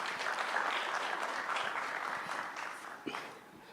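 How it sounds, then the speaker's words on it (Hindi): An audience at a business summit claps to welcome Deputy Chief Minister Rajendra Shukla, a dense round of applause that gradually thins, with one sharper knock near the end. "सबसे चाहेंगे कि जोरदार तालियों के साथ इनका स्वागत करें।"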